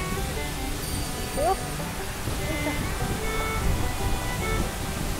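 Powerful waterfall on the hike toward Uryunuma wetland in Hokkaido, a steady broadband roar of falling water close by, with spray noise filling the whole clip and a brief voice heard over it.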